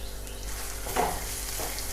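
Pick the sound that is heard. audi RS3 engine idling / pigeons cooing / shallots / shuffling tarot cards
shallots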